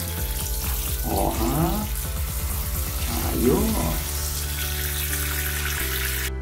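Water showered over a freshly repotted bacularis plant, two bursts of splashing spray rising over a steady background hum, close and fairly loud, with a brief voice.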